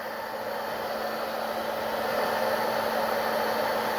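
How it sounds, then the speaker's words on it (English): A household hair dryer blows steadily up close, warming the glue on a BMW R1200RT motorcycle roundel, with a constant airy whoosh and a fixed motor whine that grows slightly louder partway through. "So you break the glue down by heating it up. This is my wife's hair dryer"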